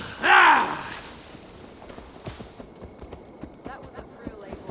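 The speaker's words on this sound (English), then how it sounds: "Now to deliver Magni his horse" A horse's hooves clip-clop in the Assassin's Creed Valhalla game, a series of light, irregular hoof knocks following a loud snort or whinny at the start, with faint background ambience.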